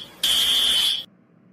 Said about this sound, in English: Evacuate, it's the fire alarm.